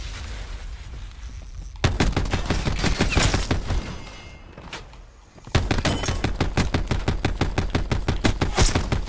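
Rapid bursts of VKM light machine gun fire in Call of Duty Black Ops 4 Heist mode, loud and close. Two sustained volleys are split by a brief lull near the middle.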